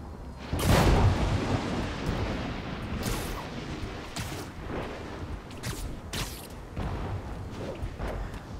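Lightning strikes in a Spider-Man video game produce a heavy thunder crack followed by rumbling and several further sharp booms. They sound over a constant bed of stormy rain.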